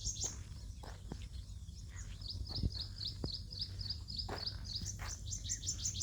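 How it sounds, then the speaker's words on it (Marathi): Small birds chirp repeatedly in quick, high tweets outdoors along a road during a walk, moderately near over a low, steady background hum with a few soft footsteps. "पण पक्ष्यांचे आवाज खूप येत आहेत इथं."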